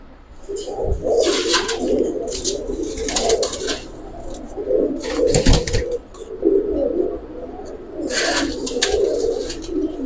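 Pigeons coo repeatedly nearby in a loose, uneven rhythm, soft throaty calls rising and falling alongside a few sharper bursts of rustling and other bird noise, with no talk.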